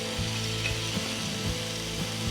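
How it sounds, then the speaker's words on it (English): Pears sautéing in a skillet with a pinch of salt, a steady close sizzle and crackle with soft stirring scrapes and occasional light knocks of the pan, no voices. "They're kind of sauteing down in this skillet with just a wee pinch of salt."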